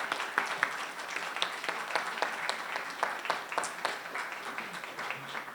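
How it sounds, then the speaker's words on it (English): A crowd at a public meeting applauds, a moderate, sustained patter of many hands that continues steadily throughout and sounds slightly distant. "Give Harry a round of applause, people."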